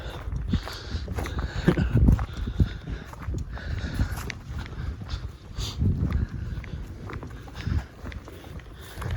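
Curious cows walk up across a grassy field on a countryside walking route, their heavy hooves thudding and trampling close by in an irregular rhythm.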